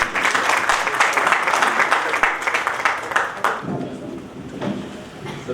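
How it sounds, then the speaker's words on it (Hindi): Loud audience applause welcoming a guest at a Hindi literary book-launch event, dense clapping that fills most of the stretch before breaking off, after which a voice begins speaking. "जोरदार तालियों से हम उनका स्वागत करते हैं।"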